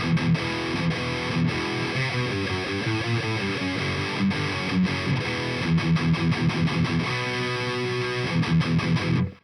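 A BC Rich Ironbird electric guitar in standard E tuning, played through the Nembrini Audio Hardball amp plugin on stock default settings, chugs out a dense, heavily distorted riff with rapid palm-muted bursts and sustained chords.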